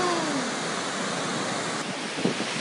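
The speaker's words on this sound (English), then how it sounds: "That is a lot of water." Floodwater torrent roaring through a city street in Toowoomba, a loud, steady broadband rush of fast-moving water that fills the whole clip without letting up.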